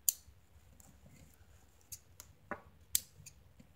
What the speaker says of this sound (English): You always cut your threads at this point in time,